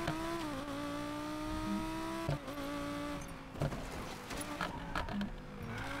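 Exhaust note of an Audi R8 widebody in Need for Speed Payback, a steady engine drone with gear changes and brief revving bursts, close and continuous without speech.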